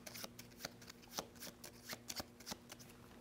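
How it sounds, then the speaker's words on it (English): A deck of playing cards for a board game is riffled and shuffled in quick, crisp bursts of flicking and snapping, steady and close, with no voices. "These get shuffled"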